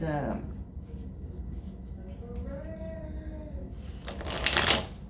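Playing cards shuffled and drawn from a deck: soft rustling builds into a loud, close riffle burst near the end, while a faint voice sings or talks in the background.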